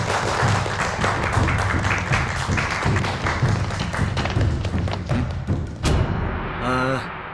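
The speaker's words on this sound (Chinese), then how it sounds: "我们就用热烈的掌声欢迎咱们的武术团队" A crowd gives warm, sustained applause welcoming a martial arts team on a drama set. The dense clapping runs loud for several seconds, then ends with a few thuds.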